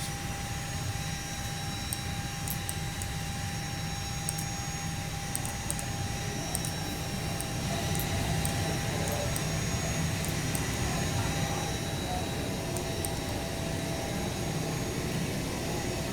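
An aircraft engine in the Blue Sky Star flight simulator game, a quiet steady whining drone with a constant hum and faint intermittent clicks, alone.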